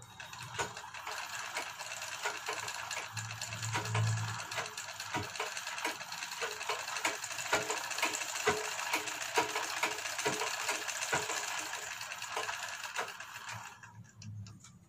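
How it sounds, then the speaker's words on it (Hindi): A sewing machine stitches a back neck design on a garment, running as a steady, close mechanical whir with rapid ticking for most of the stretch, then stopping briefly near the end. "यहाँ से और यहाँ पकड़ते हुए इस तरह से सिलाई लगाते हैं।"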